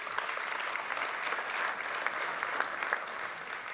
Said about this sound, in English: can we give Leanne a big round of applause?